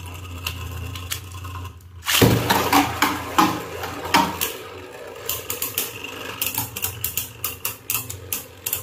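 A Beyblade spinning top launched from a Geist Fafnir launcher: a sharp release, then a rapid run of clicking, ticking rattles as the top spins and knocks against the stadium.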